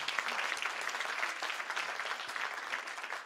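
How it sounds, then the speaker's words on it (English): An audience at a graduation ceremony applauds an ensemble led by Mugambi, with dense, steady clapping throughout and no voices standing out. "Can we give a round of applause to the ensemble led by Mugambi?"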